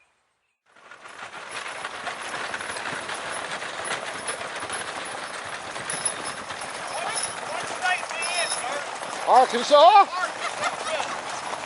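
Horses clip-clop along with a wagon train through a community, a steady outdoor clatter of hooves and rolling wagons, joined by a brief spoken remark and a few sharper sounds near the end.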